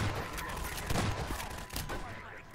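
Gunfire in Half-Life 2 crackles in a quick burst of several shots over a noisy game background, with a voice partly mixed in.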